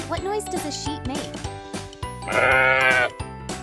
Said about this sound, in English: What noise does a sheep make?